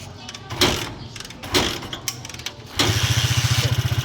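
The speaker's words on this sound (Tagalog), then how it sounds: "Umi-start na, napainit na natin yung makina." A battery-less TMX 155 motorcycle engine, already warmed up, cranks with a few uneven bursts and then catches, settling into a loud, steady, rapid idle chug close by.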